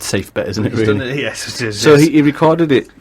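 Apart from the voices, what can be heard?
No everyday noise stands out behind the speech.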